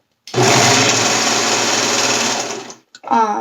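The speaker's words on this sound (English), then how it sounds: "So I'm using my serger," A serger stitches a shoulder seam on a romper, a steady fast mechanical whir that runs loud and close for over two seconds, then stops as a voice begins speaking.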